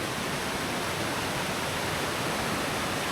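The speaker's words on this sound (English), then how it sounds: "Look at that waterfall." Waterfall pouring into a valley after heavy rain, a dense steady roar of rushing water filling the whole stretch without variation, close and fairly loud, with no voices.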